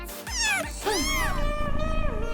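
A young kitten meows repeatedly in close succession, loud and near, with high rising and falling cries, in a home where rescued kittens are kept.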